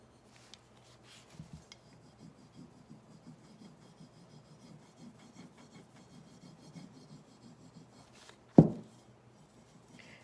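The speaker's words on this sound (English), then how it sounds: "I'm just going to rub the whole piece all over, and then I'll start lifting it" Steady soft rubbing of a transfer sheet onto a painted milk bottle, a continuous close scratchy friction with one sharp knock near the end.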